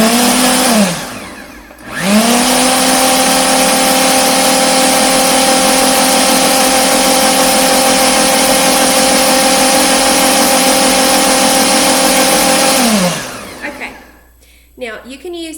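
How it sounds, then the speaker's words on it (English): A blender blends ice cream ingredients for roughly eleven seconds, a loud, steady high-pitched motor whine that starts, briefly pauses, restarts, then spins down, with some handling noise at the end. "we are just going to blend this for 20 seconds"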